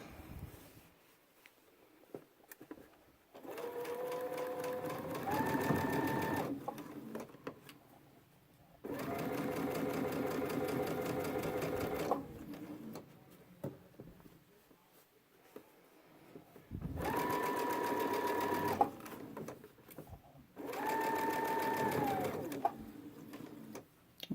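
Sewing machine stitching a backpack, close whirring bursts of rapid needle stitching in four runs of a few seconds each, separated by quiet pauses, with no talking.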